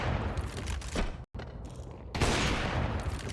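Gunfire in a Counter-Strike match on the map Nuke: loud, dense bursts of shots crowding the clip, a brief silent gap, then another heavy volley close up.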